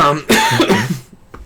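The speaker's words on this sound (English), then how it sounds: "sorry, I'm coughing" A single harsh cough close to the microphone from a person with COVID-19, followed by a brief throaty tail and a softer catch of breath.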